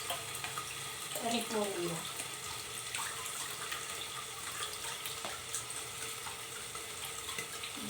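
Tap water runs steadily into a sink while cabbage is washed, a close continuous splashing rush with a few clinks and brief spoken words over it.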